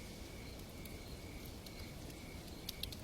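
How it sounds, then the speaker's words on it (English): Night insects heard from a hillside cabin deck, a faint continuous chirring drone with a few soft, high calls near the end, quiet and distant with no talking. "The cicadas and the owls and other nighttime animals."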